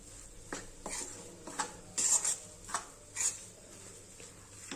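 A spoon scrapes and clinks against a metal pan while stirring flour and besan together for laddu, giving irregular soft scrapes with a few sharper metallic taps, close and steady without talk.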